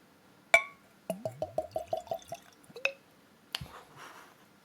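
Whiskey (Weller Antique 107 bourbon) being poured into a glass: a sharp clink, then a quick run of glugging pours from the bottle, another clink, and a final splash, all close and fairly quiet.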